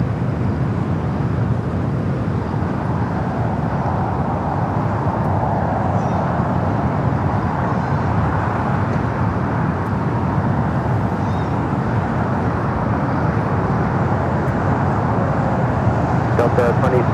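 An airliner bound for JFK rolls down runway 24 left at LAX, a loud, continuous broadband jet roar holding steady throughout, with talk over it.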